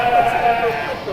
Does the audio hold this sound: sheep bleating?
yes